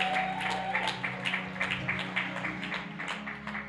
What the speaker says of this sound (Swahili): Hebu mshangilie Bwana kwa makofi hapo ulipoketi.